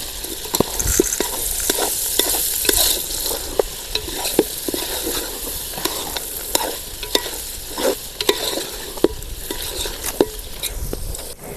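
Goat intestine curry with turmeric fries and sizzles in a pan in a Telangana village kitchen, with steady close crackling and repeated stirring scrapes throughout, no talk.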